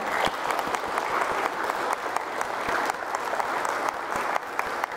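Wedding guests applaud the newly married couple at the close of a ceremony, a dense, steady burst of clapping from a sizeable crowd that carries on without a break for several seconds.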